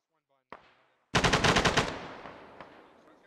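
Automatic weapon fire in the military shooter Arma 3: a single sharp shot, then a rapid burst of about ten loud, close rounds, trailing into a long echoing decay.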